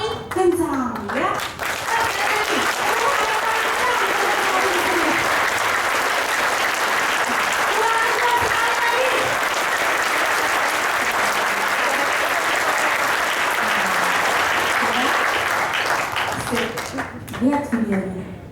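Audience in a hall applauding loudly, sustained dense clapping for most of the stretch, with a speaker's voice heard briefly at the start and end.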